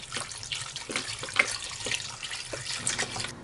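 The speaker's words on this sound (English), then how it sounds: "we're very simply pouring some filtered water, nice filtered water, into the soup bowl with the bones" Filtered water poured from close by into a pot of bones for bone broth, a steady trickling splash with small drips and bubbles, no voices.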